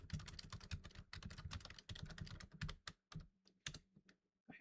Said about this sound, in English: I don't know if it's actually a mechanical keyboard